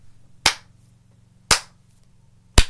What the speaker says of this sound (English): I just feel like doing the clapping for some reason